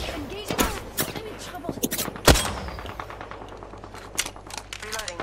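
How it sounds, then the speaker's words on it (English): Rapid bursts of automatic gunfire in Apex Legends, sharp cracks with one heavy loud shot in the middle, mixed with other game sounds and a player's voice talking over it. "I'm taking fire"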